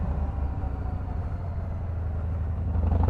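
A Harley-Davidson Fat Boy 114 motorcycle, its big V-twin engine rumbling with a deep, pulsing throb that holds steady and swells slightly toward the end, close and fairly loud, without talk.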